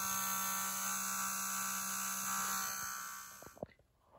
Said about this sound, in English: now the sound from the alarm integrated circuit will be different